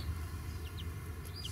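A broody mother hen in a new chicken coop clucks softly with her chicks, low close murmuring clucks with a few faint high peeps from the chicks, quiet and continuous.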